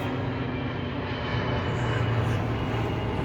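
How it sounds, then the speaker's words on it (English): An airplane passes overhead in Texas, a steady broad rumbling drone that holds at an even volume throughout, with no one speaking. "Got an airplane up there."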